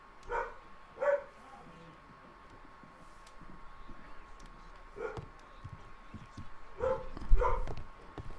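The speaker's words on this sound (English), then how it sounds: "they've got a dog barking in the background" A dog barks in the background of the Sherlock Holmes: The Devil's Daughter video game, giving short separate yaps and woofs spaced across the scene, with a couple of clustered barks near the end and faint game ambience in between.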